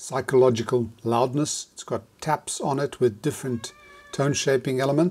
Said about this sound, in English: Yes, that was the cat.